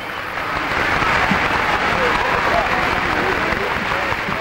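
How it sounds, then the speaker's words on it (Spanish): Large crowd in a town square in Caparroso, Navarra, applauding and cheering Mexican president José López Portillo on his visit to Spain: dense, steady clapping and cheering throughout, loud and continuous, with a voice over it. "el señor López Portillo tuvo que corresponder repetidas veces a los aplausos de la multitud, que no cesaba de vitorearle"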